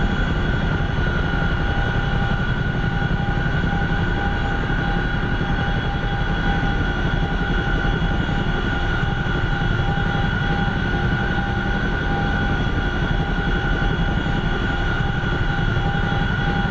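A CH-47F Chinook helicopter in the flight simulator DCS over an Afghanistan map, heard as a steady, loud, unbroken engine and rotor drone with a sustained turbine whine, continuous throughout with no talking.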